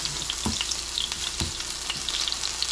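A salmon and northern bean patty with garlic, onion, black pepper and oat flour frying in a pan, a steady close sizzle with two dull thumps as it is turned over, no talking.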